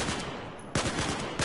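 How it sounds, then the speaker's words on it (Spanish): Rapid gunfire from a weapon in Battlefield 4, a dense burst of sharp cracks, a brief gap, then another burst, loud and close with no talking. "Dispara bala por bala."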